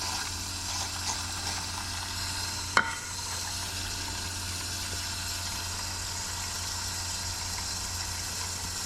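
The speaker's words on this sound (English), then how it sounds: "Exhaust side's leaking a little too." Chevy 5.3 V8 running with a small leak on the exhaust side, a steady hissing, sputtering drone held at an even level throughout, broken by one sharp click just before three seconds.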